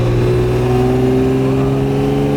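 A restored 1963 Maserati 3500 GT Sebring Series 1 engine roars at high revs nearby, holding a strong steady growl with bright harmonic tones throughout.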